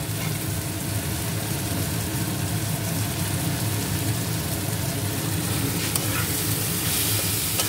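Vegetables and vegetable masala sautéing in a pan give a steady, dense sizzle and frying hiss, with some stirring noise running throughout and no talk.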